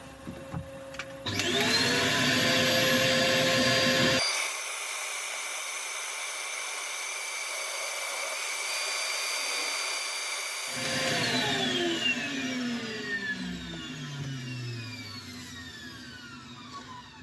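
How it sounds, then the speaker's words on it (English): A power sander works a metal inlay piece, its motor spinning up to a loud, steady whine, easing to a lower hum mid-way, then surging again before winding down with a falling tone; no voices. "Right, I think we can start sanding."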